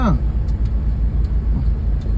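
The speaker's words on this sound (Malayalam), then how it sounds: "നോക്കിക്കോ ലോറി വരുന്നുണ്ട്" A lorry draws near on a road, heard from inside a car as a steady low engine and road rumble that holds throughout, with speech faintly mixed in.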